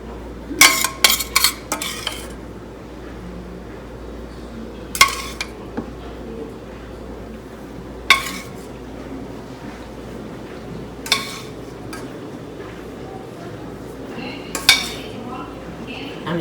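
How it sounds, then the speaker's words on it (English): Chocolate peanut butter mixture being spooned into molds, with a handful of sharp metallic clinks and taps of a spoon against a container spread over a quiet kitchen background. "I'm gonna fill them as high as I can with the mixture that I have left"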